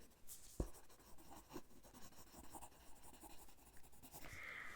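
A pen scratching across paper in short strokes and taps, quiet and close, in a soft-spoken hospital-themed ASMR setting, with faint room noise and no talking.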